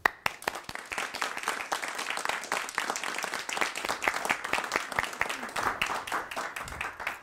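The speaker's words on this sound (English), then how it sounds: "if you all could give a big round of applause for our guest today" An audience at a Startup Grind Syracuse talk claps for a library guest, a lively spread of individual hand claps close and distinct, keeping an uneven rhythm for several seconds before tapering off.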